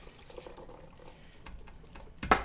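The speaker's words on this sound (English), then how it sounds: "strain out the water" Water from a pot of cooked lima beans is poured off and drained in a kitchen, a soft low running trickle that ends in a brief louder splash.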